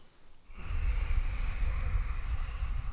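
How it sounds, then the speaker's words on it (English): Deep, steady breath during a yoga stretch, a close, breathy rush of air that swells after a brief quiet start and holds for a couple of seconds. "Big, deep breaths."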